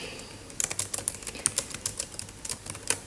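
Quick, light taps on an iPad keyboard come in an irregular run of around twenty keystrokes, close and clear with no voices.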